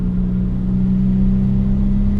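A modified Audi B5 S4 Avant engine drones steadily while driving, a loud, even low hum with road noise and no obvious revving.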